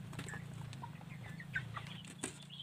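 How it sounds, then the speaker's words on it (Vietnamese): Hens clucking softly at close range, short repeated clucks over a low, steady background hum, with a couple of brief sharper calls. "Đây hai con gà mái nó đẻ hôm trước ấy, bây giờ nó đã nằm ổ rồi."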